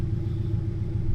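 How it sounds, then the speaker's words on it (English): A turbocharged Toyota GR86 idles on a dyno before its first run, giving a steady, low, loud engine rumble that holds evenly with no voices. "Alright, we're about to do the first dyno run"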